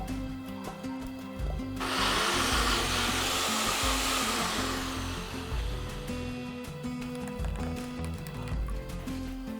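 An electric grinder whirs loudly into a sustained, steady roar as it blends chopped ingredients into a paste for a biulir dal, running continuously for most of the stretch with a low hum from a quieter start.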